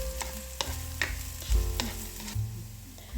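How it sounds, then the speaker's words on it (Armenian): Chopped onion fries in olive oil in a pan, giving a steady close sizzle broken by several sharp stirring scrapes and clinks, with no voices. "նախ սոխը կտապակեմ"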